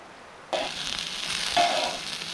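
Onions and steak dropped onto a pan over a wood campfire in a forest, a sudden hiss of sizzling that starts abruptly and swells again as more food goes in, close and steady with no talking.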